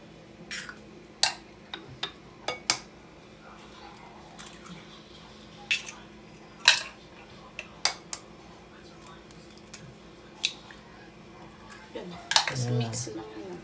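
Three eggs worked into two portions of tuna in a bowl for a tuna omelette, with scattered sharp clinks of a utensil striking the bowl at irregular intervals over a low steady hum, ending in a brief wet, squishy stir.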